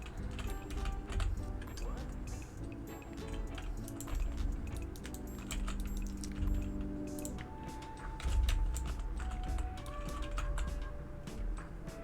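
Computer keyboard keys click in quick, irregular bursts near the microphone while someone plays Planet Zoo, mixed with soft game music and ambience.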